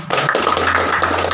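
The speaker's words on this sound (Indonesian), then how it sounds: "Kita kasih aplaus dulu untuk kita semua" Brief applause from a small group at an informal gathering in a cafe, a dense burst of clapping that stays even and close for about a second and a half.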